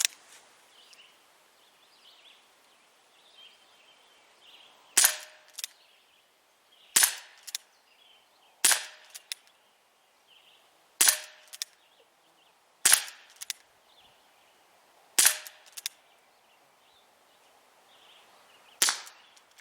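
An ASG Dan Wesson 4-inch CO2 BB pistol fires seven sharp, loud single shots, spaced about two seconds apart. Quiet background fills the gaps between them and no one speaks.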